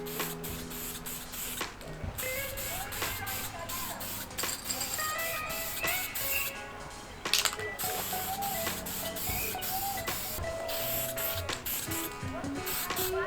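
Clear coat sprayed onto a restored 1980s aluminium tinny, a steady, close, continuous spray hiss with light clatter and rustle running throughout.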